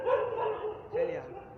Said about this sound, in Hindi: दोस्तों ये बिल्कुल गेट के पास भौंक रहे हैं